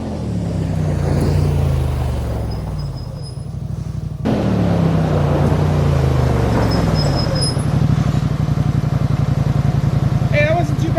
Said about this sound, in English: I'm going to show you guys engine braking